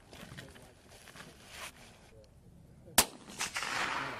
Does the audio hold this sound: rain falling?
no